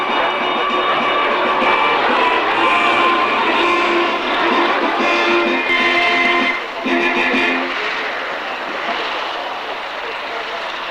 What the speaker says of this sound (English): we've just enjoyed the sound of the two Bristol Mercuries